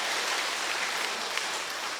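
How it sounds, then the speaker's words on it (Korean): A church congregation claps in welcome during a Sunday service, a dense, even patter of many hands that holds steady for the whole two seconds with no voices over it. "박수 한번 쳐주시죠"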